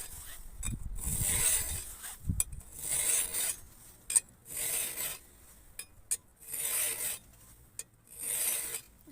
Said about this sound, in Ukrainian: Ставимо її паралельно до шинки і починаємо заточувати рухом вперед.